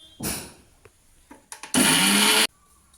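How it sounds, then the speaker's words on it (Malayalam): Kitchen mixer grinder coarsely pulsing a spice paste with turmeric powder and salt for Kerala avial, a short whir followed by a louder, sustained grinding burst of under a second, with quiet handling noises between. "മഞ്ഞൾ പൊടിയും ഉപ്പും ചേർത്ത് മിക്സിയിലൊന്ന് ഒതുക്കിയെടുക്കാവുന്നതാണ്."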